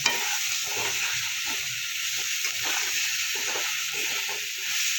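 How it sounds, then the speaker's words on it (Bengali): Pieces of kohlrabi fry in hot oil with salt and turmeric, giving a constant bright sizzle with soft clicks and scrapes of stirring underneath, close and steady. "ওলকপি দিয়ে ভালো করে নুন হলুদ দিয়ে একটু ভেজে নেব"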